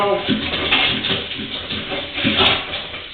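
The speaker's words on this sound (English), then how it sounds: "I'm going to run a little bit of water down." Water gurgles and rushes down a drain into a cast iron pipe line, swelling in two surges over a few seconds, close and fairly loud.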